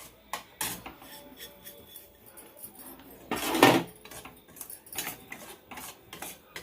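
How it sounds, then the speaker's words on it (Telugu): Semolina is stirred as it fries in ghee in a metal pan, with quiet intermittent scrapes and clinks of a spoon against the pan and one louder, longer scrape partway through. "ఇలా కలుపుకుంటూ వేయించుకోవాలండి."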